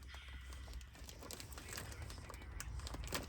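A foam pro filter is unwrapped from its plastic wrapper, with quiet crinkling and tearing of plastic and small handling taps scattered through a few seconds, close and faint, with no talking.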